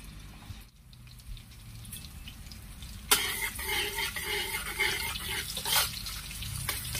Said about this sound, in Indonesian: Kita masukkan bawang putih, bawang merah ya.